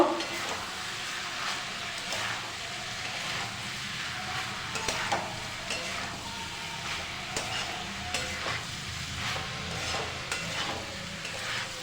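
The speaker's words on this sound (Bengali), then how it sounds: "ভালো করে নাড়িয়ে নেব" Boiled pasta and fried egg being stirred in a frying pan, a steady sizzle running throughout with repeated scraping clicks of a utensil against the pan, fairly close and with no voices.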